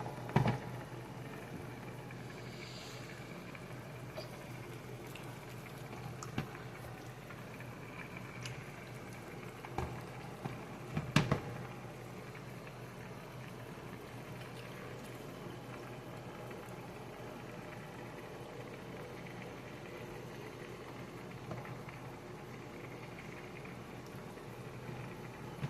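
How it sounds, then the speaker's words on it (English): Chicken and rice simmering in a covered pot, a steady low bubbling hiss that carries on evenly throughout, broken by a few faint clicks and one sharper knock midway. "I'm gonna put the lid back over it and I'm gonna let it actually simmer maybe for another few minutes"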